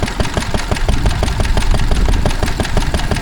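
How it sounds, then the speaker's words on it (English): Steady rapid thumping of a running RA Lister stationary engine at an outdoor spring fair in Laughton, Sussex, each firing stroke sharp and regular, heard up close and loud with no speech. "that is another RA Lister"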